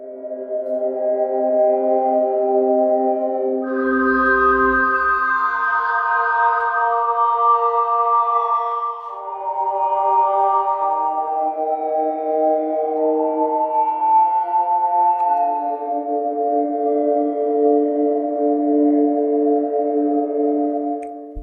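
Soft, sustained notes from a pad-like piano instrument patch (Heavyocity Foundations Piano) with a warm pad character, slowly shifting through held harmonies, with a brief low thump early on; no voices.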